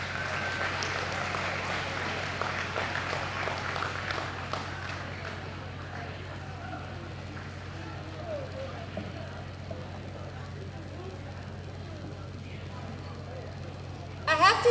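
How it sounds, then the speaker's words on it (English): A banquet crowd at a chamber of commerce annual dinner claps for event sponsors. The clapping is faint and fairly distant, strongest at first and then fading into a steady low room hum. "A big round of applause for all of those."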